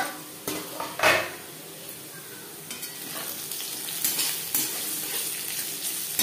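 Potatoes fry in a pan over a medium gas flame, with a soft sizzle broken by a few sharp clinks and scrapes of utensils against the pan near the start and middle.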